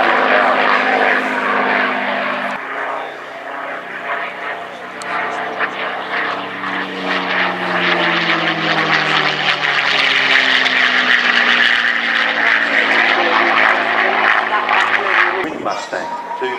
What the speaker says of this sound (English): Mustang, two Mustang fuselages together